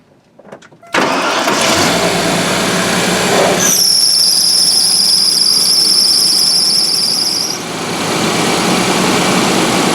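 A 1994 Jaguar XJS 6.0 V12 engine cranks and catches with a sudden roar, then settles into a steady idle, joined partway through by a sustained high-pitched squeal.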